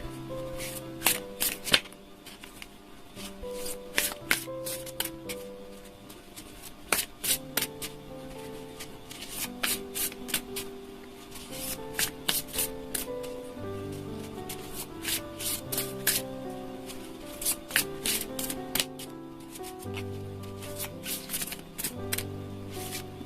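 Tarot cards being shuffled by hand in a steady run of crisp riffling and rubbing bursts, close and clear, with soft music playing underneath.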